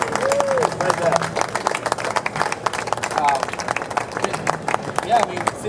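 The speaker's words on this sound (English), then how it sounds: "just have a round of applause, not just for BT, but there's also some folks at the back that helped build this thing" An audience at a NAMM 2014 demo of iZotope BreakTweaker by BT breaks into dense, sustained clapping and cheering that fills the room at a steady level, with a few scattered shouts rising above it.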